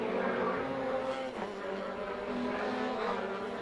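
A rallycross race car corners on a dirt section of the 2013 Global Rallycross Championship course in Charlotte. Its engine note drops briefly and then climbs again at a moderate distance over a constant roaring background, with no voices.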